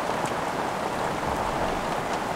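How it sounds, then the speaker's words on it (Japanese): Heavy, cold rain pours steadily in open savanna country, a dense continuous hiss of large drops close by with no breaks, no voices and no thunder. "まもなく大粒の冷たい雨が降り出します"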